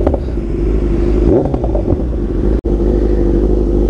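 A line of motorcycles fitted with custom aftermarket exhausts, including a Kawasaki Z900, gathered for a Sunday group ride. Nearby engines rumble steadily, with a short burst of revving in the middle and a brief dropout near the end. No one speaks.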